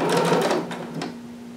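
Sewing machine back stitching a jumpsuit leg seam, a short close burst of rapid mechanical stitching that fades into a lighter hum and a few soft ticks.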